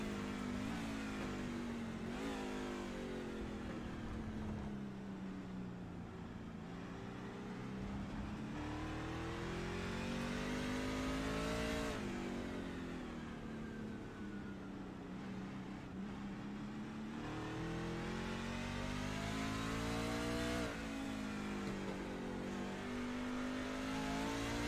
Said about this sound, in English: just let you listen to the engine roar.